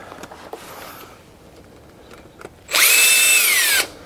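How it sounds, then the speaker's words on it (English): An impact driver spins Torx T15 screws out of a Ford Super Duty hub, a single loud whirring burst of about a second near the end after quieter handling noises, close by. "you can put the impact on them to go ahead and zing them out real"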